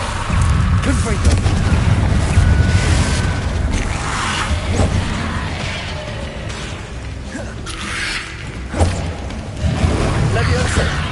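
Fiery Confringo spell blasts in the Hogwarts Legacy game, dense low booms and rumbling explosions layered over continuous combat noise and music, with a sharper impact near the end.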